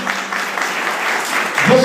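Church congregation clapping in praise of Jesus Christ during an Urdu sermon, a dense, steady wash of applause lasting under two seconds.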